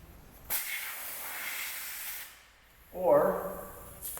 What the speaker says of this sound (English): two ways of getting the pressure out of the tire